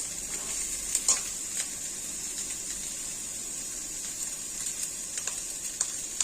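Eggplant curry with potato, tomato and drumstick fries in a pan over a gas flame, a steady close sizzle with scattered soft scrapes and taps of stirring, no voices.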